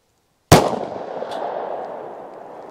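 A single loud gunshot from a Glock 27 pistol firing .40 S&W Golden Saber ammunition, a sharp crack at close range followed by a long decaying echo, with no talk.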